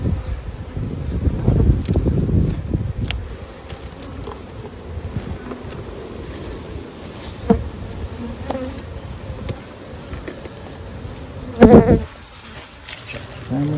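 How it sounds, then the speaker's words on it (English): Honeybees buzz around an opened hive honey super, a steady low drone of many insects with individual bees passing close to the microphone, plus occasional handling knocks and rustles. "This honey super had bees in it"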